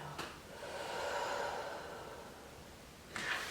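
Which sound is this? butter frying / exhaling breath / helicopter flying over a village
exhaling breath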